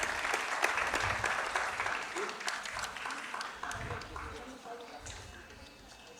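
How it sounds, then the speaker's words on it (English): Audience applause at a stage music event, a steady wash of clapping that gradually fades, with voices murmuring underneath. "A huge round of applause, please."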